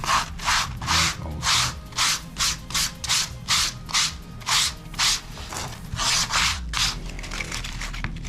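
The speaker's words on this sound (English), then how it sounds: "Now let's move to the back. Rough sand it." The back of a handmade leather belt being rough-sanded by hand: steady rhythmic back-and-forth strokes, about two per second, each a loud close scratchy rasp, continuing without speech.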